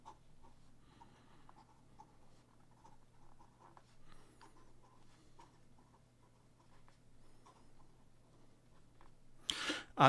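An 18 karat gold nib fountain pen writes on paper in faint, soft scratchy strokes with a quiet low hum underneath, ending in a short louder rustle.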